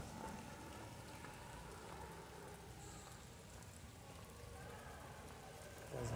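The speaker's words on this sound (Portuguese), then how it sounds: "Vocês verem, está chovendo um pouco." Light rain patters softly and steadily outside a parish house during a Women's Day celebration, a faint, even hiss of drops falling outdoors with no voices.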